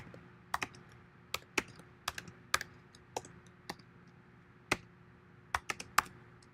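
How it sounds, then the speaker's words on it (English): Keys on a computer keyboard typed in an irregular sequence of about a dozen distinct clicks, close and fairly quiet against a low background hum. "type some commands here"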